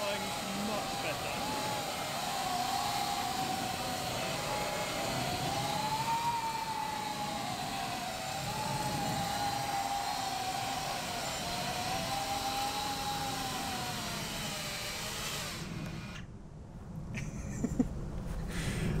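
A Coanda effect drone flies at about half throttle, its steady motor whine wavering gently in pitch for most of the time before it cuts out near the end, with a voice talking over it.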